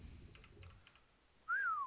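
A player whistling to call tamed creatures in the survival game Ark: one short, clear whistle rising and then gliding down, heard after faint soft clicks and background hum.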